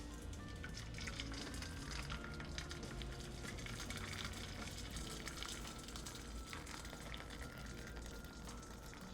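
Hot water is poured over the outside of a bowl, a steady close splashing gush with a faint hiss that runs continuously throughout.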